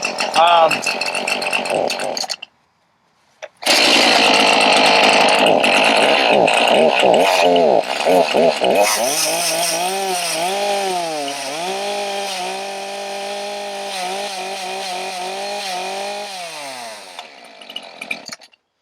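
A chainsaw, started with no choke, roars to life after a short silence, revving loud and close before settling into a steady, wavering idle that fades at the end.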